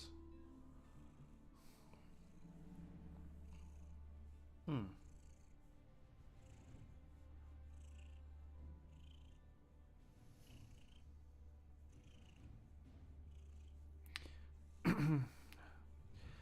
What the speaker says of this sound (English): pet my cat that decided to come by and lay down in my lap